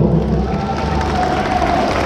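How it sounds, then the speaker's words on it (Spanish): A crowd at a village Independence Day festivity in San Bernardo Mixtepec applauds and cheers for a schoolchild from the Nicolás Bravo school. The clapping and shouting form a loud, steady wash with no pauses. "el aplauso para ese alumno de la Nicolás Bravo"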